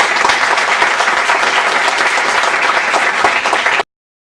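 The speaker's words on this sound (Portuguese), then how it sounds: "Peço uma salva de palmas para o nosso senhor." Close, loud audience applause, a thick continuous rattle of many hands clapping for nearly four seconds before cutting off abruptly into silence.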